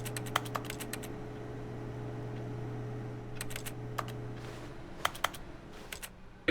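Keyboard typing from the video game The Stanley Parable: bursts of quick, crisp key clicks in short clusters separated by pauses, over a low steady background hum.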